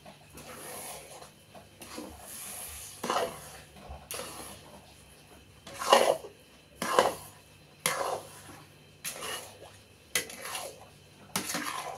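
A spoon scrapes and stirs a thick carrot and rava mixture in a cooking pot, giving repeated rhythmic metallic scrapes about once a second, close and moderately loud.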